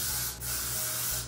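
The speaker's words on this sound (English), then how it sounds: "Okay, spray it in. Yeah, so spray it on the actual hair." A spray bottle mists product onto a wig's hairline in two quick, close hissing bursts, then one short spritz at the end.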